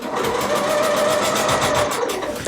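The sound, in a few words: sewing machine sewing ribbon hanging loop onto Christmas stocking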